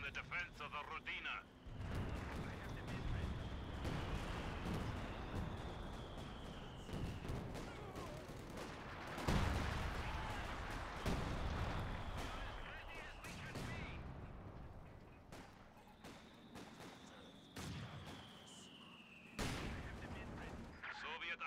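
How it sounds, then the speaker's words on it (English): Artillery and gunfire from Company of Heroes 2 on a steppe battlefield, with repeated heavy booms and crackling shots. A whistling shell sound rises then fades twice, and there is intermittent game voice chatter under the combat. "Soviet artillery is reloaded and awaiting a target."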